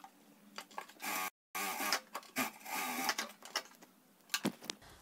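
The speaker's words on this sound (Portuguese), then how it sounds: "passa uma costurinha aqui fazendo uma bainha" A sewing machine stitches a hem along the edge of fabric for a zippered cloth bag, a dense mechanical whirring in several bursts separated by short pauses and one brief silence, close and fairly loud with no talk.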